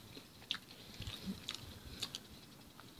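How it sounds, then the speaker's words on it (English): Biting and chewing into a big Carl's Jr Crispy Chicken El Diablo burger with crunchy jalapeño poppers; close, soft crunching bites and mouth-chewing noises repeat irregularly over a few seconds with no talk. "Getting more crunch from the chicken and the poppers."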